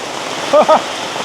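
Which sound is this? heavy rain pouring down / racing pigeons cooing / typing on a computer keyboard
heavy rain pouring down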